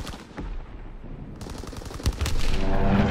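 A fighter aircraft's strafing run in Call of Duty WW2 fires rapid bursts of gunfire that build into a loud, dense rattle of shots and impacts, with heavier hits toward the end.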